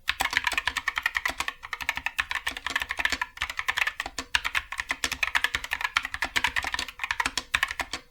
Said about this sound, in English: here's a sound test of just the optical yellows straight out of the box